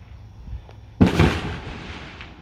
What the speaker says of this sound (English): No doubt they are bombs. Because the ground is shaking.